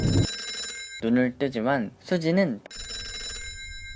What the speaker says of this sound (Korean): 벨소리가 울려도 전화를 받지 않습니다.